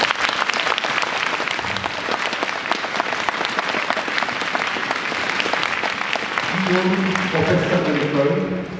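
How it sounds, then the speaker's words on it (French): Sustained audience applause fills a martial arts gala night of Vietnamese kung fu in Versailles, dense steady clapping throughout, with voices or music tones rising near the end. "pouvez les applaudir bien"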